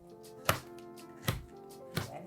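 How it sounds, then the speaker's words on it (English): A knife slices through a banana on a cutting board, three crisp chops spaced evenly about a second apart, close and quiet with no voices. "I'm just cutting the banana."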